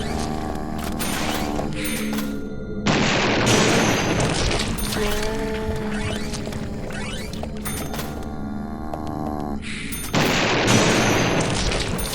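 Rockets from an RPG fired in the Deadly Premonition video game's shooting gallery, booming launches and explosions repeating several times over a continuous mechanical game soundtrack with tonal hums.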